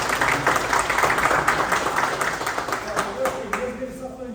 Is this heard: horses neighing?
no